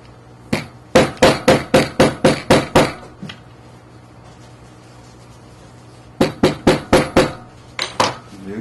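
A hammer taps along a thick leather jacket seam to flatten it, first a rapid run of about nine sharp strikes, a pause, then another quick burst of about eight close, loud knocks.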